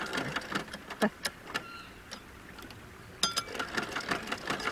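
A domestic sewing machine stitches in reverse along a skirt seam near a stretch waistband, giving short uneven bursts of whirring and clicking with pauses between them, close and fairly quiet.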